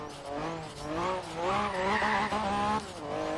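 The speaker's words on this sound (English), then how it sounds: "Really like the turbo on it. Woo! Backfiring like crazy." A turbocharged Honda NSX track build in Forza Horizon 3, on a run through the city, its engine revving hard with rising and falling harmonic whine, loud and continuous with brief crackling pops between the pulls.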